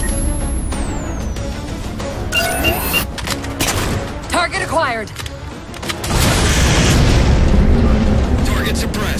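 Heavy railgun blasts and booming explosions in Halo 4 from a Mammoth tank, with rapid bursts, electronic whines and a radio voice speaking over the chaos.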